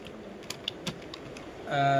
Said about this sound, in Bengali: আমি এখান থেকে জাস্ট কিছু নাম লিখি